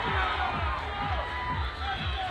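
A large crowd cheers at the British Bouldering Championships 2023 finals, a dense roar with a rhythmic pulsing beat like clapping or stamping, and voices mixed into it.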